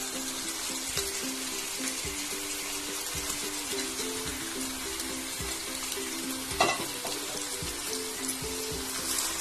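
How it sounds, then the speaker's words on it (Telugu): Mutton added to a pan of fried ginger-garlic paste for gongura mutton curry sizzles steadily and close, with a constant crackling hiss and repeated scraping, clinking stirs. "మటన్ వేసుకుందాం."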